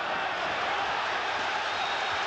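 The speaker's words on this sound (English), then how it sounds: "The crowd erupts as Trinidad comes forward." A boxing arena crowd roars steadily at a title fight as champion Felix Trinidad presses forward against Mahenge Zulu, a dense, unbroken wash of cheering at close range.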